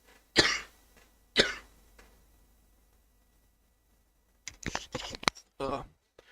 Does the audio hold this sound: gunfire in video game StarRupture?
no